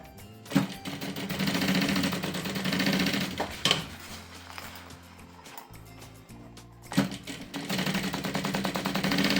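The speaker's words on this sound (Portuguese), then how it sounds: "E vou fazer outra costura também à beirinha, também deste lado" Sewing machine stitches the lining of a preschool backpack in loud rapid mechanical bursts, stopping briefly between runs with a few sharp clunks.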